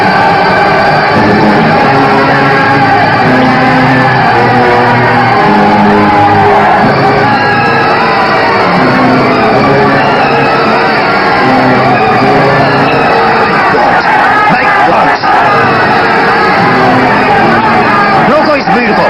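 An angry crowd shouting and bellowing in a Bollywood action film scene, a loud, dense, continuous mass of raised voices and whoops with individual yells breaking through.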